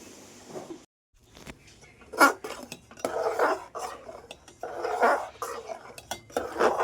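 Metal pots and utensils clatter and clink several times in close succession, a busy kitchen racket with a brief pause near the start.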